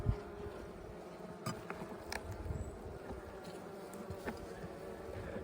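A dense, steady drone of many honey bees buzzing close by in a hive, continuous throughout with slight swells in intensity and no talking.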